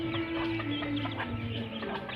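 Desi chickens cluck in a lively, overlapping chorus close by, with one sustained call over scattered short clucks and no talk.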